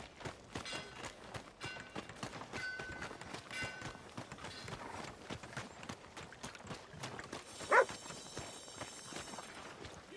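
Horse hooves clip-clop at a steady walking rhythm through a PS4 video game scene, quiet and continuous, with a brief louder squeal or whinny near the end.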